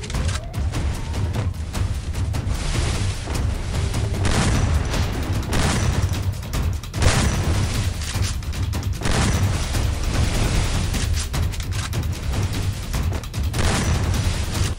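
Gunfire in the Free Fire battle royale game, with loud, dense bursts of rapid shots and booming reports running almost continuously throughout, heavy and close.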